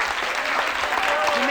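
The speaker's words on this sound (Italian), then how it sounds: "Un applauso al macellaio." A television studio audience at a 1982 Italian satire show applauds a volunteer with a butcher's build, the clapping dense and continuous throughout the short burst.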